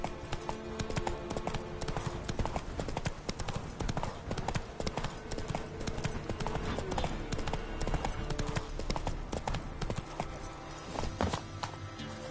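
Hooves of Roach, the horse in the Witcher 3 video game, clip-clop in a steady, busy walking rhythm throughout, loud and close, layered over dense game ambience and music.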